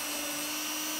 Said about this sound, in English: it's just a matter of popping it in the drill based on the system.